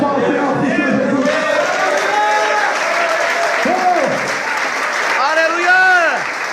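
A church congregation claps hands loudly and continuously while voices shout and call out over it, with rising and falling exclamations cutting through the steady applause.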